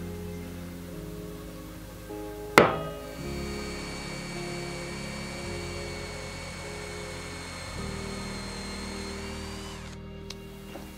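A hammer strikes once, sharp and close, to mark the centre of a drill hole on wood in a workshop, followed by a steady machine hum.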